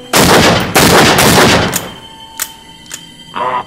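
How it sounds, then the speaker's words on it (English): Gunfire in the Until Dawn horror game on PS4: a few loud, close booming shots in quick succession, followed by fainter sharp cracks and a short closing rumble, with no talk over it. "I just shot him!"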